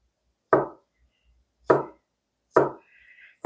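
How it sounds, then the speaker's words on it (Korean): Knife chopping a small amount of garnish for sweet potato porridge on a cutting board: three distinct, well-spaced chops up close, with a faint high tone between the last two and quiet surroundings. "이거는 위에 장식할 거 조금만 썰어 볼게요."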